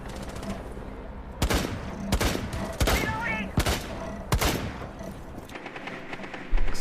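Gunfire in the video game Rainbow Six Siege during a LatAm Pro League match: several loud, sharp bursts and single shots in uneven succession, with commentary running underneath.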